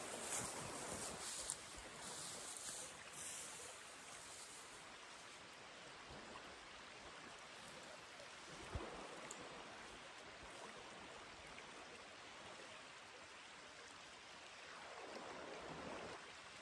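Steady broadband rush of a river flowing beside a riverbank, continuous and fairly close, with no voices over the water noise.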